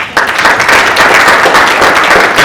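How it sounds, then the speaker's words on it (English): A seated audience of entrepreneurs bursts into sustained applause after a brief quiet start, dense steady clapping filling the room at full loudness without letting up. "So first of all, applaud yourselves for being an entrepreneur."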